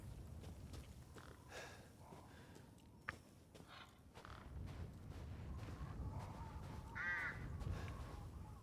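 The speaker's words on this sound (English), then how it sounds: "there are ambient bird noises, but they sound like crows" Crows caw now and then at a distance amid the quiet ambience of the video game Resident Evil Village, faint scattered calls over a low rumbling bed with a few soft thumps.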